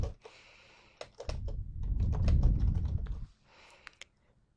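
Clicky computer keyboard typing while filling in an online request form, with a burst of brisk keystrokes and a louder rumbling stretch in the middle before the keys trail off into silence.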